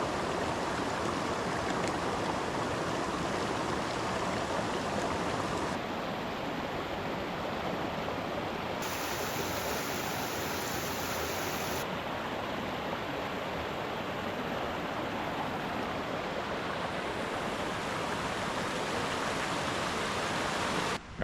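Flowing stream water at a backpacking campsite on Mt Hood's Timberline Trail, a steady broadband rush that stays even and unbroken throughout, fairly soft and with no voices.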